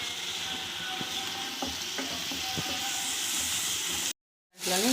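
Tomato puree for a prawn curry sizzles and fries in a hot pan, a steady close hiss with occasional stirring scrapes, before a brief drop to silence near the end.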